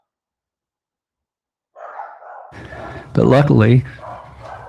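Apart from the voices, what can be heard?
dogs barking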